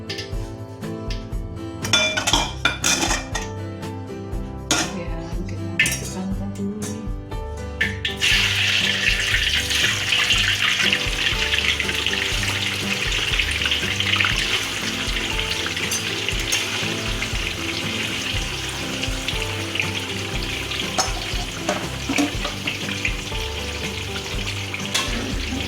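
Food is stirred in a pan during Minang-style home cooking: at first sparse clinks and scrapes of a utensil, then a loud, continuous sizzle of frying that lasts to the end, with occasional clatter over it.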